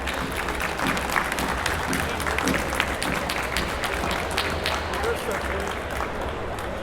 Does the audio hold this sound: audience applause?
yes